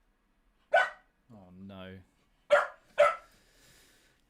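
Sharp dog barks sound close and loud, one bark, then a few moments later two quick barks in a row. A short voiced whine or spoken phrase falls between them.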